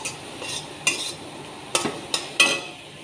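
Spoon scraping and stirring in a pan as spices and food are sautéed without water, a handful of sharp clattering strokes over a soft steady sizzle, close and alone.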